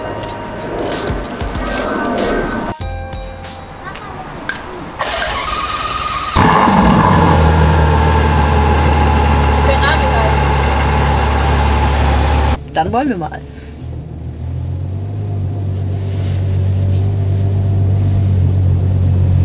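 Ferrari GTC4 Lusso engine starts up with a sharp burst, then idles and is revved, a loud, deep rumble that swells and drops; someone speaks briefly at the start.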